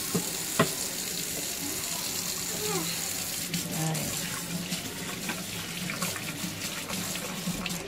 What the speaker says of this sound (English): Wait, I forgot to wash my hand.